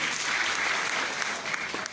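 Crowd at an evening stage performance clapping for sponsors, continuous broadband applause from many people with a few sharper individual claps near the end, steady and fairly loud throughout.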